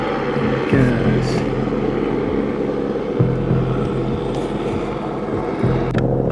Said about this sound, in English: Helicopter approaching for a buzz, sounds like.